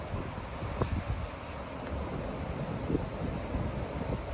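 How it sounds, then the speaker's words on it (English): A strong gust of wind roars during an atmospheric river windstorm in Washington State, a loud, steady rush with buffeting surges and no talking. "There's a nice gust right there."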